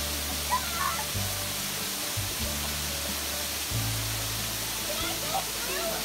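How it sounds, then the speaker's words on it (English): A steady, hissing roar of a waterfall, heard from beneath it, fills the scene, with a low hum underneath and faint voices now and then. "He's under the waterfall."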